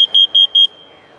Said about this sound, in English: You can see the detector itself went into CO alarm.